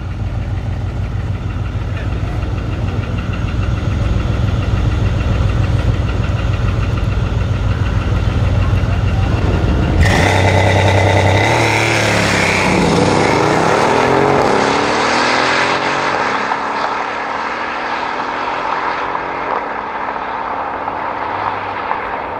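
High-powered cars racing: a 1000 hp Mercedes-Benz CLS63 AMG against a 700 hp Audi RS3 Sportback. A loud, sustained engine roar cuts abruptly partway through to a different, rising and then fading engine and wind sound, with no talk.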